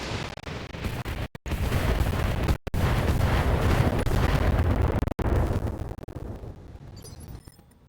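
Heavy weapons pound an embrasure in a video game battle, making a dense, continuous roar of explosions and firing with a few abrupt cutoffs. The barrage is loud and close and fades out toward the end.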